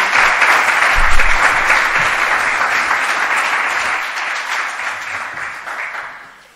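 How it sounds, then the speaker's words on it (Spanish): An audience at a cultural afternoon event on Don Quijote applauds a speaker as she is introduced, with dense steady clapping that holds for several seconds and then tapers off at the end. "Y ahora sí, pido un fuerte aplauso para Patricia y os dejo con ella."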